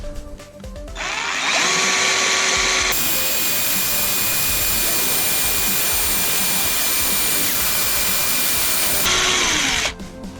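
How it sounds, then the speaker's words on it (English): A power drill bores into a stripped screw on a PS3 hard drive tray, spinning up with a rising whine, then grinding loudly and steadily for several seconds before winding down, close to the microphone. "it does not fit yet, so that means I have to drill a little bit deeper"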